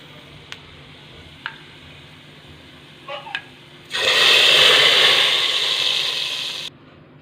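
Fried cumin and browned ginger are tipped into peas, setting off a sudden loud sizzle that lasts about three seconds and then cuts off. A few light clinks of utensils come before it.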